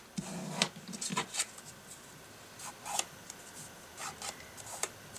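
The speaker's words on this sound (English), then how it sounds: "I'm just going to use my fingernail to cut that crease" Fingernail pressed along the fold of a paper journal card, producing soft, close scraping and rubbing strokes in several short bursts, quiet and without talk.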